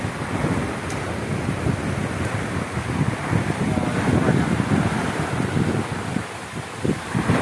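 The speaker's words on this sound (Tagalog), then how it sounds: "Bumabagyo na. Bumabagyo." Strong storm wind gusting by the sea during heavy rain, a loud, continuous roar with buffeting on the microphone that swells and eases throughout.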